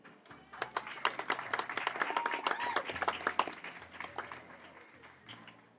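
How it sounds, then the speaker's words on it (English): At the grand opening of a mini city hall in Bellevue, an audience gives a round of applause for Mike, a steady, moderately close crowd clapping that swells, peaks midway and then tapers off. "Let's just give another round of applause to Mike,"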